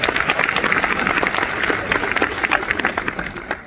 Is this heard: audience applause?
yes